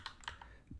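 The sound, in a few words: typing on a computer keyboard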